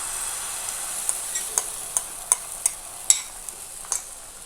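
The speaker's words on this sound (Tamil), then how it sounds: "இப்போ இதில் நம்ம ரெடி பண்ணி வச்சு அந்த முட்டை மிக்ஸ் ஊற்றிக்கலாம்." An egg mixture hits a hot, oiled tawa with a soft, steady sizzle, scattered with sharp little crackling pops. No voices are heard.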